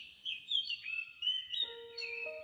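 A parrot in a children's bedtime story chirps and whistles in bright, sliding high tones, clear and alone, joined near the end by soft sustained tonal notes.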